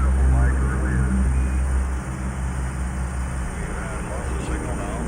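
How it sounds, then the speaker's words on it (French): Airplane engine drone over Arctic Ocean pack ice, a steady loud broadband roar with strong low rumble, continuous throughout and slightly easing after the first couple of seconds. "Cet avion survole la banquise de l'océan Arctique et les dernières îles avant le pôle Nord."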